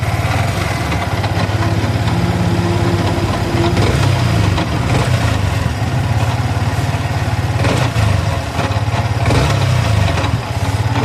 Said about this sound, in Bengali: বাজে নয়েজ আসতেছে, মনে হয় যে ভেঙে গেল এরকম একটা হরহর আছে